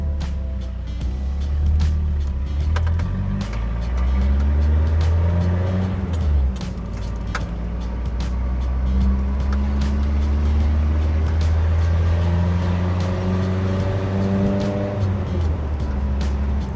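An old pickup truck with a loud exhaust drives along, its deep, rumbling engine drone steady and close, rising and falling with shifts in throttle.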